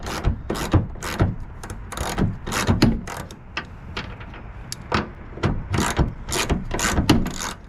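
A hand ratchet loosens a 13 mm bolt on a Ford F-150 pod light bracket, making quick bursts of sharp, clicking pawl ticks. The clicks come in uneven clusters, close and fairly loud, with no voices.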